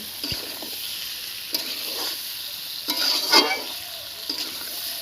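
Boiled potatoes frying in a pan for duck egg curry: a steady bright sizzle with repeated scraping stirs and clinks of a spoon on the pan, close up.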